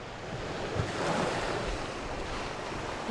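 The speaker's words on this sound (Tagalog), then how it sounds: "Malakas naman yan, malakas ang alon." Strong ocean waves at a beach, a loud continuous roar of surf with wind buffeting the microphone, no voices.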